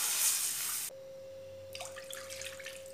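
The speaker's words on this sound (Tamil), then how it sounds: "அரை கப் கோதுமை ரவைக்கு 2 கப் அளவுக்கு தண்ணி சேர்த்துக்கிடணும்" Water runs briefly, then stops, followed by a soft steady hum and faint splashing as water is poured into a pan for wheat rava kesari.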